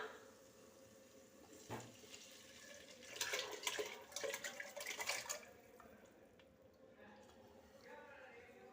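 Prepared fish curry gravy poured into a pan of sautéed tomatoes in a home kitchen gives a liquid splashing and gushing that swells for a few seconds, close and moderately loud, then settles into a low sizzle.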